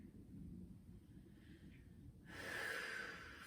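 A yoga instructor's slow breath, a long soft airy exhale rising louder toward the end, close and alone with no talk.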